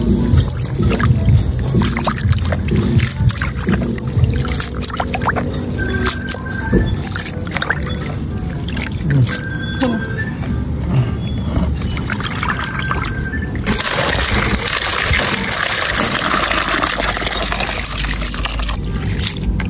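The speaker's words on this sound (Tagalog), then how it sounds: "Next naman po ay ito pong arosep. Hugasan na din po natin." Water runs and trickles as sea grapes (arosep) are rinsed by hand, a continuous splashing and pouring sound with small sloshes throughout.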